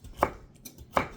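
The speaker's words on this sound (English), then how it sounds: "Chop them up." Two sharp knife chops on a cutting board while cucumbers are cut up, close and distinct, spaced under a second apart with quiet between them.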